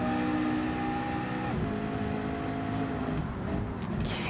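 A race car in a racing video game drives down the front straight, its engine a steady sustained drone with a shift in pitch partway through, heard alone without talk.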